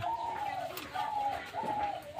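A captive red turtle dove coos close by, three repeated soft hooting calls in a steady rhythm, clear and alone.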